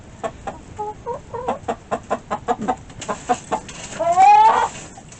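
Broody hens sharing one nest cluck in short repeated bursts, close by, ending in a longer drawn-out squawk.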